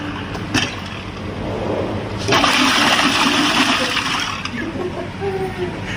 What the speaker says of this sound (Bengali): তো এটাই ছিল আটা লাগানো মেশিন